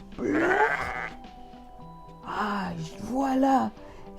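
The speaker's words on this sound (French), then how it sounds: "Une brebis qui pleure." A sheep bleats loudly and close by in two separate bouts, the first a long wavering cry and the second a pair of drawn-out calls after a short pause.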